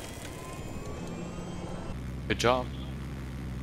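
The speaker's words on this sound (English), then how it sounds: "Got a little chopper coming up." A helicopter flies in the video game Battlefield 3, its quiet steady engine hum running throughout. A short burst of in-game noise and a brief spoken remark come near the end.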